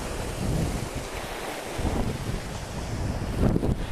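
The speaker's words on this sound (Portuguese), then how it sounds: "Eu vou virar aqui, vai fazer um barulho do vento" Steady wind buffets a microphone on a beach, with rough, fluctuating gusts and a distant wash of surf throughout, swelling near the end, no voices.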